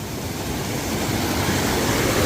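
Water rushes in a steady, broadband wash through a village drain in the rainy hills of Uttarakhand, continuous and fairly close, with no voices over it.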